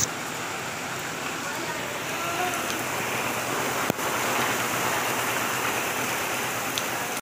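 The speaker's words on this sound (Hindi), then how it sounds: "बारिश इतनी तेज़ हो रही है" Steady heavy rain in Karachi hissing continuously across the whole stretch, dense and unbroken, with a brief sharp knock near the middle.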